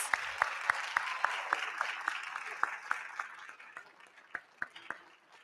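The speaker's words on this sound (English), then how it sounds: "let's give them a big round of applause" Applause for young musicians at a Black musicians coalition event in Atlanta, sparse audience clapping with a few loud, distinct close claps standing out in a loose rhythm before thinning out.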